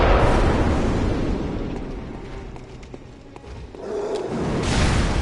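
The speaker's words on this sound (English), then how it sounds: "Good news is, its cannon fire is pretty inaccurate." Heavy, booming cannon blasts from a Bloodborne enemy, with one loud explosion at the start and another swelling near the end, separated by a rumbling lull.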